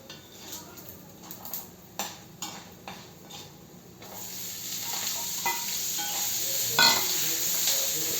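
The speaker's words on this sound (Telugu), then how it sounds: "ఇందులో మనం ఈ క్యాబేజీని కూడా వేసేసుకుని చక్కగా మగ్గించేసుకుందాం" A few clinks and stirring knocks, then cabbage hits a hot pan and a loud, steady sizzle of frying carries on to the end.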